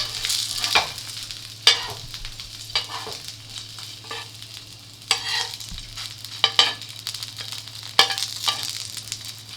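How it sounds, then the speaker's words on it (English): Chicken sausage fries in a pan, giving a soft, steady sizzle broken by repeated close scrapes and taps as the pieces are turned, over a faint low hum. "I just need to fry a little bit."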